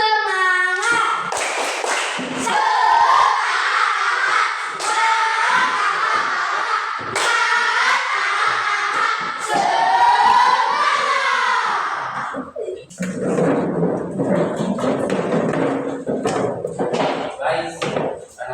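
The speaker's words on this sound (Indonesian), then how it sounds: "Tepuk semangat!" Children do a rhythmic tepuk semangat spirit clap in a classroom, shouting and chanting loudly at first, then clapping in a quick patterned rhythm near the end.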